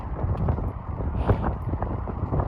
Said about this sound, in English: the wind is blowing right in my face